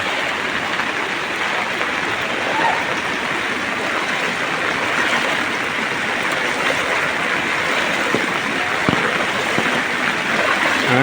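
Floodwater flowing steadily through Kondotty in Malappuram, a loud, continuous rushing wash like a strong stream, with no break across the whole stretch and no voices.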